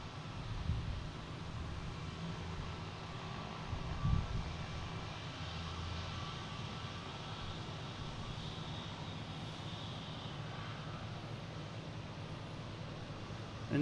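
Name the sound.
British Airways Boeing 777 landing from London Heathrow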